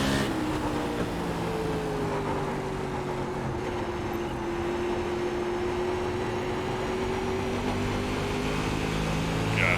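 A sprint car engine at throttle in iRacing drones steadily around an oval track, a continuous loud buzzing tone that rises and falls slightly in pitch throughout.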